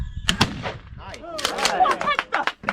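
Shotgun blasts at a thrown clay target on the North Rim of the canyon, with two sharp, loud reports early on and more shots later, under excited talk from several people outdoors.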